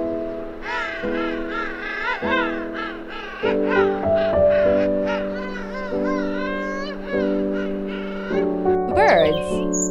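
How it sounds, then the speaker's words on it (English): Warbling, trumpet-like emperor penguin calls repeat one after another over a steady droning tone in the background. "Emperor penguin."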